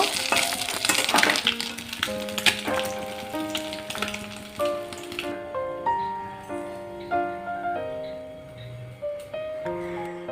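Fish sizzles and crackles loudly in hot mustard oil for the first several seconds, then the frying fades as steady melodic tones take over.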